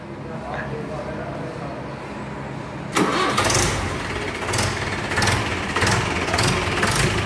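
A Mahindra 575 DI or Escort 335 farm tractor diesel engine cranks and catches about halfway through, then runs loud and close with pulsing rhythmic knocks, after a quiet stretch of background noise.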